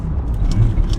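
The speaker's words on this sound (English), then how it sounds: "That was my blow valve." A blow-off valve vents on a single-turbo BMW 335i, two brief hissing puffs over a loud, close engine rumble heard from inside the car.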